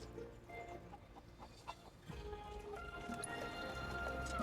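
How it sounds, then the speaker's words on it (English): A flock of chickens in the video game Final Fantasy VII Rebirth clucks and scurries amid busy game sound, with faint hoof-like clopping and a rising bed of background music. "I can't keep up with a flock of chickens."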